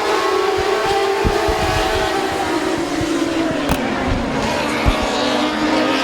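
Dwarf cars racing at Midvale Speedway just after the green flag of a 15-lap feature, a steady loud roar of several engines with passing surges throughout, no talk.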